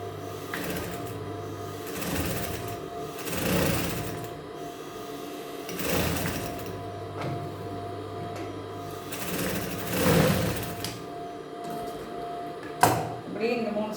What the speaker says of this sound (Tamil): இந்த காலர் நான் தைச்சி காட்டுறேன்,